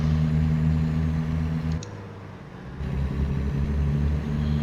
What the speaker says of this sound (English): I think this truck, I've got a 400 horsepower Cummins in it.